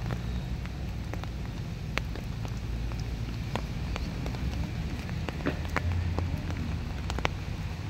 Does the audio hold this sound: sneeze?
no